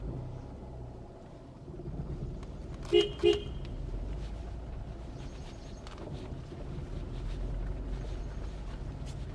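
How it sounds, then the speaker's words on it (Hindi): Two quick, short car horn toots close together, heard over a steady low road rumble and faint voices. "चलिए हॉर्न दबाइए, पीछे यहाँ हॉर्न दबाइए"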